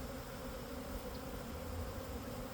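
Honey bees buzzing during a package bee installation, a dense steady hum of many insects filling the whole stretch close by, with no talking.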